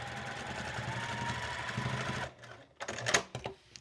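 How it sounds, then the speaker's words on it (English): A sewing machine stitches back and forth over two pieces of elastic on a glass pan cover, a steady close mechanical whir for about two seconds that stops, followed by a few scattered clicks and handling noises. "I'm going to sew back and forth just to secure them"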